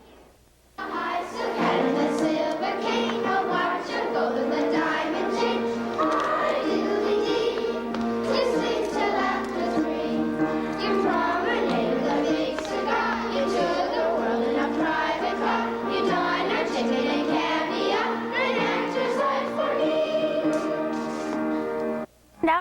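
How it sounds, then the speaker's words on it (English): School children's stage musical performing songs from Disney movies, a continuous sung number with instrumental backing that stays steady and fairly loud, set in a crowded hall. "The musical performance featured songs and dances from several Disney movies"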